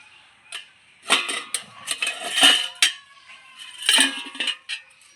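A metal lid comes off a pan holding an eggless semolina cake, giving bright clinks and scraping clatter in several close bursts, with quiet gaps between them.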